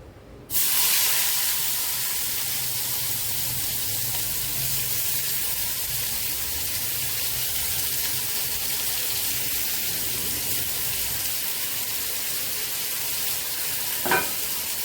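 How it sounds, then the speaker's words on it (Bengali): Finely chopped onions fry in a pan with a steady, loud, continuous sizzle that starts abruptly and holds evenly, broken by a brief clink near the end, with no talking. "পেঁয়াজ ঝুরঝুরি করে কেটে নিয়েছি, এটা এখন ভেজে নেব"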